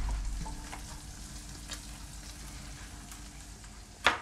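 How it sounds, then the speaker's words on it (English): Minced garlic frying in a pan for mapo tofu, giving a quiet continuous sizzle with a few faint stirring scrapes and a sharp clack at the end; no one speaks. "Okay, so next we're going to add our garlic."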